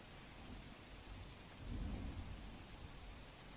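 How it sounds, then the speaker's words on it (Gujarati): Heavy, continuous rain pours down across Navsari district, a dense steady hiss with low rumbling swells like distant thunder, loudest around the middle and unbroken throughout with no voices. "જે સતત વરસાદ પડી રહ્યો છે, આજે છઠ્ઠો દિવસ છે"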